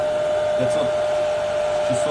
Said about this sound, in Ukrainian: включимо наш фен на перший режим